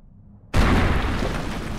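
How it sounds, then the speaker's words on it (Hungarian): A sudden loud explosion in the GTA-based SeeMTA multiplayer game bursts in after a quiet half second, a broadband boom that stays roaring and rumbling to the end. "De most ez robban, tudod?"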